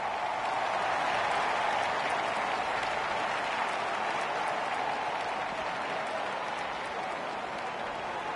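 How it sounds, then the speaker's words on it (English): A cricket crowd at an India versus Bangladesh Test match applauds a six and a batsman's fifty, a dense, steady roar of clapping that holds at full volume for several seconds, with no one speaking. "The crowd applaud."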